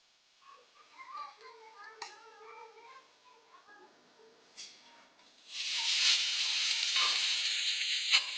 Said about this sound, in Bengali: তারপর আলু কুচি পেঁয়াজ কুচি লঙ্কা কুচি একসাথে ভেজে চাউমিনটা দিয়ে দিয়ে নেড়ে চেড়ে রেডি করে